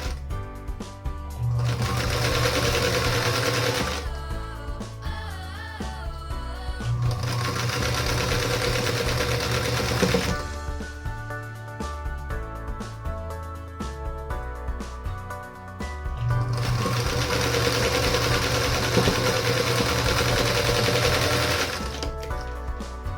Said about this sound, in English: So now as I'm sewing these blocks together